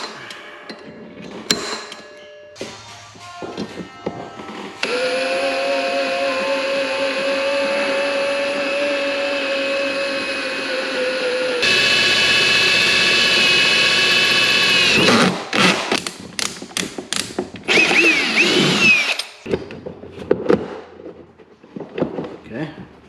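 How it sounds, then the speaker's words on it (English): A power drill bores through a metal Power Wheels axle, making a cotter-pin hole where the nut sat, with sustained loud whining runs that change pitch under load, broken by short clanks and handling knocks. "I'm just going to see if I can drill a hole straight through it."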